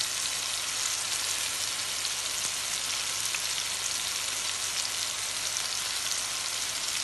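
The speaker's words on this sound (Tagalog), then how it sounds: "Fried banana with cinnamon" Banana slices fry in a pan with cinnamon and sugar, giving a steady, dense sizzle that holds evenly throughout at close range with no talking.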